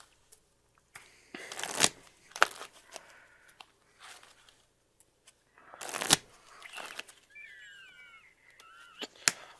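Magic: The Gathering cards being shuffled during a tabletop game, several bursts of riffling and rustling with pauses between them, fairly close and clear with no talk.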